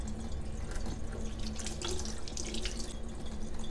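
Tap water runs steadily and close while rinsing a homemade oil cleanser off skin, a continuous splashing stream with brief drips.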